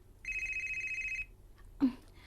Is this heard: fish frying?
no